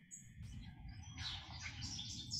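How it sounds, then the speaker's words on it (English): Birds chirping outside, a few bright tweets and calls from several birds, faint and somewhat distant over a low steady background hum, with no talk. "Got quite the bird collection going on outside."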